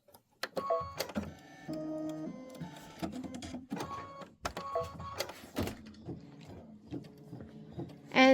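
Computerized embroidery machine stitching a yellow-gold thread design for Christmas poinsettias, a steady mechanical whirring with rapid needle rhythm, broken by starts and stops and a few sharper clicks, close and moderately loud with no talking.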